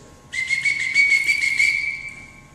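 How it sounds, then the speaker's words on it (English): A single shrill whistle blast at an archery class sounds for about a second and a half, sharp and steady, over a faint background hum. "5 whistle blows means stop everything that you're doing."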